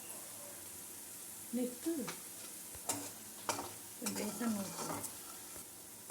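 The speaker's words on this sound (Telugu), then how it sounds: "బేసన్ లిక్విడ్గా కలుపుకున్నాం కదండి. ఇలా ఇప్పుడు పోసేసుకుంటున్నాం." Liquid besan batter sizzles faintly in a pan under a soft stirring scrape and a few clinks of utensils, with a voice speaking briefly.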